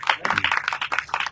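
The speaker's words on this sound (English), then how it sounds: "Everybody give a loud applause." An audience applauds at an evening Bhagavata-saptaha religious gathering, a dense close patter of many hands clapping steadily through the whole short stretch.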